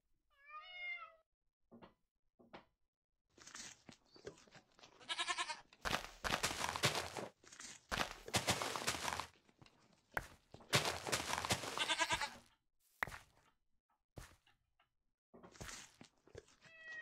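Goat bleats from the video game Minecraft, a series of short, wavering calls repeated through the stretch, some louder and overlapping with bursts of other in-game noise, with no talking.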